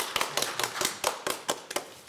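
Applause at a civic meeting on legislation to dismantle the Yushin military dictatorship's legacy: a handful of people clap in a loose, fairly regular rhythm of about ten distinct claps, moderately loud in a quiet room.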